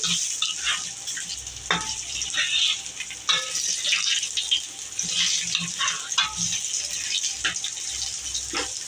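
Beef tripe sizzles in a pan with a continuous bright hiss, and a spatula scrapes and taps against the pan at irregular intervals. Close and moderately loud, with no voices.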